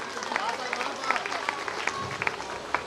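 An audience at a school event at J.P.J. Gyandeep Academy, Ghazipur, claps to welcome a guest: scattered, fairly close hand claps ripple unevenly through a murmur of crowd voices.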